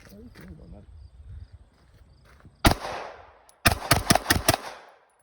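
Sharp, loud gunshots from a Smith & Wesson M&P 9C pistol with an Apex trigger at a shooting range: a single shot, then a rapid burst of about five shots fired in quick succession, preceded by faint background talk.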